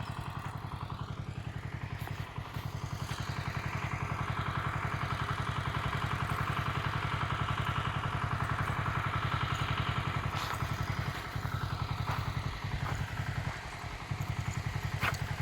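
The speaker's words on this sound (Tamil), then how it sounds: "சின்ன ட்ராக்டர் வண்டி மாதிரி ஒன்று இருக்குது அதை வச்சு உழவடிக்கிறாங்க அவங்க" Small tractor ploughing a village field among flowering plants, its engine chugging steadily and clattering throughout at moderate distance, with no talk.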